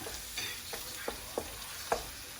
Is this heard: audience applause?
no